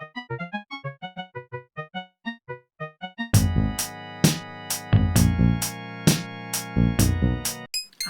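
Mario Paint composer synth part from a video game, quick chirpy blips in a bouncy pattern that then join the thumping drums and bass, dense and loud with no voices.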